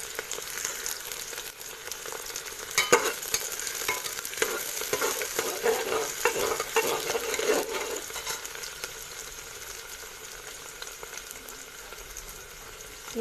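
Onions sizzle in mustard oil as they cook until reddish. A steady frying hiss runs throughout, with louder stirring and scraping in the middle before it settles back to a softer sizzle.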